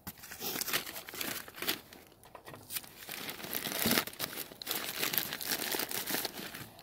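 A plastic packaging bag being handled while packing manzanita, giving continuous close crinkling and rustling with bursts of louder crumpling throughout.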